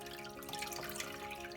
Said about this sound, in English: pick it up and squeeze it. Don't twist, and squeeze out the water.